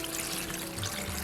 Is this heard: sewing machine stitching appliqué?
no